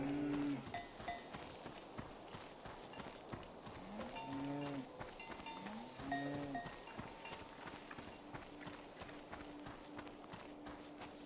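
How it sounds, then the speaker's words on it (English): A cow named Frenzy in the video game SEASON: A Letter to the Future lets out several drawn-out moos, fairly close, over a busy bed of farmyard noise with hoof clops and clanks. "The cow is called Frenzy."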